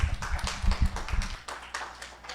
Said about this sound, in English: Let's give Jennifer another round of applause.